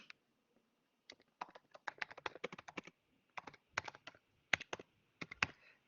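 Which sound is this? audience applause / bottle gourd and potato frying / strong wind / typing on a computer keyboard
typing on a computer keyboard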